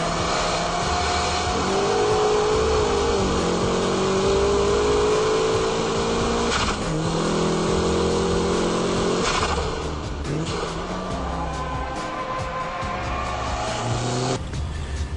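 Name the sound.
car engine revving during heel-toe downshift while braking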